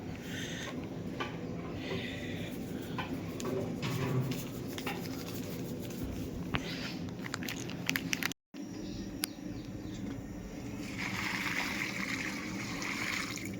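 Water trickles and splashes steadily into a bowl of flour being prepared as dough for dal bati, a close, soft stream running almost continuously with a brief break partway through.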